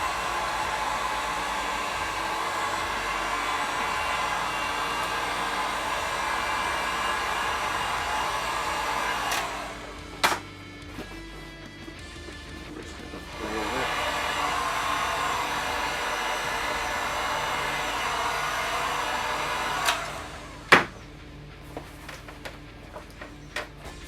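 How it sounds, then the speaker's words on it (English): A heat gun warms craft foam for a cosplay shoulder piece, blowing with a loud, steady, close airy roar in two long runs split by a short pause, with a few sharp clicks and knocks near the breaks. "So I'm going to take my heat gun and warm that up"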